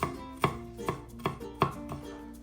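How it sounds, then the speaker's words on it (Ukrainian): A knife chops quickly on a cutting board, five or six sharp, close knocks in an uneven fast rhythm with no talking. "Так, посікли зараз дуже і дуже швиденько."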